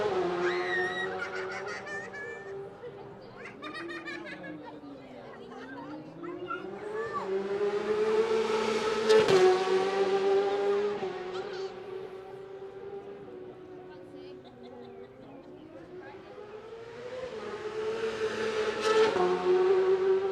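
Race motorcycles at Isle of Man TT qualifying, heard from the pit lane, their engines rising and falling in long, loud, rasping sweeps as bikes pass and rev, with a crowd murmuring underneath.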